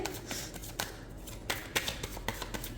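Tarot cards are shuffled by hand during a reading, a quiet, close riffling with soft irregular taps and flicks, no talking over it.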